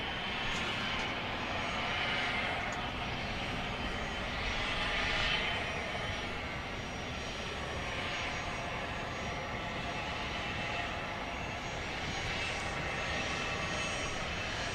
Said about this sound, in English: Here's another west side takeoff.